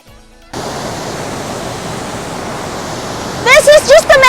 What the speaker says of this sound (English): So waterfalls is really so relaxing, isn't it?